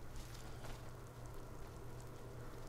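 Steady rain in the Skyrim video game, a soft continuous patter running evenly through the whole stretch with a low ambient hum beneath and no talking.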